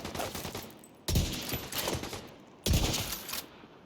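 Two sharp, loud gunshots from The Division 2, spaced about a second and a half apart, each with a short ringing tail over a low game background.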